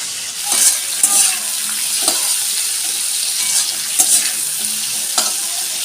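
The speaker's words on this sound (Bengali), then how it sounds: "উচ্ছেটা আগে দিয়েছি, তারপরে একটু কুমড়োর ডাঁটাটা দিয়ে একটু হালকা ভাজা হলে তারপরে কুমড়ো আর আলু দেবো" Bitter gourd and pumpkin stems stir-frying in a pan, a steady loud sizzle with repeated scraping stirs of a spatula, close and alone without talk.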